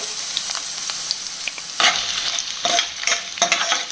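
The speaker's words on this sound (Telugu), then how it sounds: "ఇవన్నీ చక్కగా దోరగా వేగాలండి" Chana dal and urad dal crackle as they fry in oil for a tempering, with a steady sizzle broken by louder scraping stirs near the pan, no voices.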